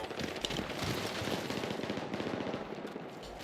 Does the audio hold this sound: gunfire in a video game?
yes